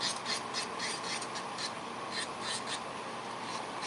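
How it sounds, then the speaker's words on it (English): A hand-held nail file rasps back and forth, shaping a nail into a coffin shape, with quick, soft, rhythmic strokes close up. "So you see how my movement of my file, even my angle, I even come straight up and down because that's less hand filing for me."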